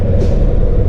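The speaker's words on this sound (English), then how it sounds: "now I hear that the 5th wheel is unlocked" A semi truck's fifth wheel unlocking as the truck creeps forward, heard as a loud, steady low rumble with a brief hissing burst near the start.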